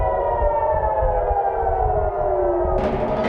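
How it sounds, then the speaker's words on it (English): Air raid sirens wail over Jerusalem, a loud continuous rising-and-falling civil defence tone sounding steadily throughout. "Sirens over Jerusalem."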